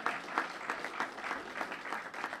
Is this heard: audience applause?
yes